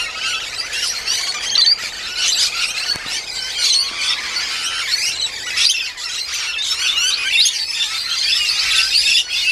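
Lorikeets and parrots among apple trees create a noisy, overlapping din of high-pitched squeals and chattering screeches, close by and sustained without pause.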